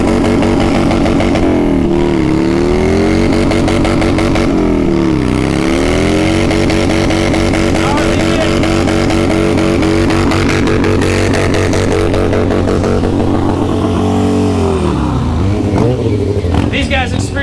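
Loud motorcycle engines roar and rev continuously on a race track, pitch rising and falling as they shift gears and race past in a dense, unbroken wall of noise.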